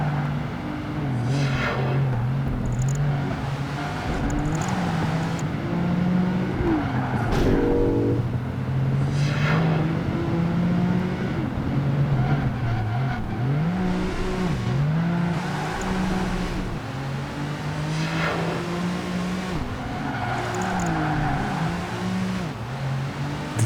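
A TVR Tamora sports car races in Project Gotham Racing 2, its engine droning steadily and rising and falling through gear changes, with occasional bursts of other cars and tyre noise, loud and continuous.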